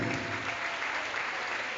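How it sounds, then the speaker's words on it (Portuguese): Dense, steady applause from a church congregation, continuous and even at moderate loudness for a short stretch, with no voice standing out. "Uma salva de palmas pela vida desse meu irmão."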